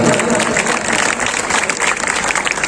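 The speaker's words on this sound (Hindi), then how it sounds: "एक बार जोरदार तालियां हो और इतनी तालियां बजाओ कि पंडाल एक बार गूंजना चाहिए" Loud, thunderous clapping fills a large pandal at a Shyam devotional event, a dense, continuous roar of many hands at close range, with a voice partly audible under the ovation.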